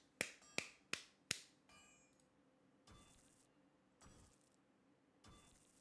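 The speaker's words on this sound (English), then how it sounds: "Last clap test." Four sharp hand claps in quick succession used as an audio sync test, loud and close, followed by fainter scattered knocks and rustles in a quiet room.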